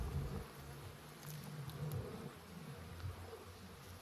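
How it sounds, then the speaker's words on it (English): Bees swarm thickly in a beehive honey super, giving a steady, close, fairly soft buzzing hum with no talk over it. "Wow, man, lots of bees up here."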